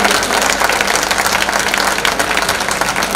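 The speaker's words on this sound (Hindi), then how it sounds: "आपको पसंद आया तो एक बार उनके लिए तालियां सब लोग मिलकर बजा दीजिएगा" Loud, dense clapping fills a Hindi comic poetry gathering (hasya kavi sammelan) in Karol Bagh, a continuous roar of many hands with a slightly rough, crowded texture throughout.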